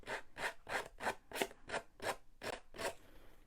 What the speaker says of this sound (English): most people around the world just use their scissors to distress.